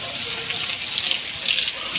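Steady rushing and splashing water pours onto a patch of gongura plants in a home garden, continuous and fairly close for two seconds.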